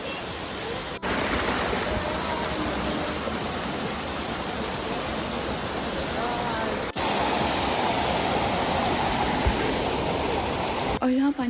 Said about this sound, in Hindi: यहाँ पानी का फ़्लो शोर इतना ज़्यादा था